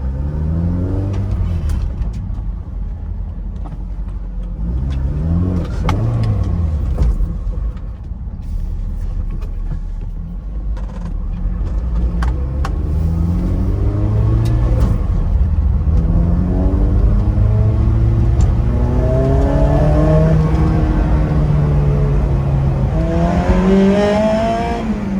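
A Honda S2000 fitted with a Kraftwerk supercharger drives along an open road, its engine rising and falling through repeated loud accelerations and gear changes, heard close from inside the car over steady road rumble.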